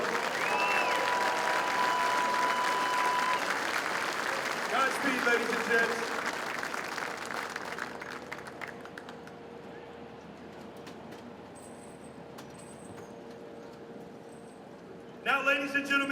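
Crowd applause for first responders rolls on loudly at first at a special operations industry conference in Tampa, then thins and fades out while someone speaks over an amplified system.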